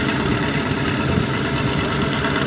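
A small boat engine drones steadily and continuously, a rough low rumble with no talk over it.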